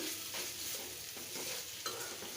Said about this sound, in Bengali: তোমরা চাইলে এভাবে ভুড়িটাকে ভেজে নিতে পারো